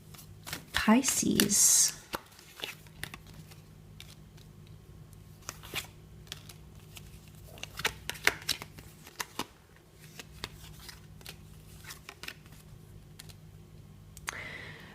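Tarot cards shuffled in a loud riffling burst, followed by scattered soft clicks and taps as cards are laid out one by one, close by, with brief talking.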